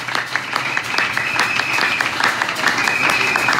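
A church congregation claps together during a sermon, giving dense, even applause that stays loud and sustained throughout, with a voice faintly underneath.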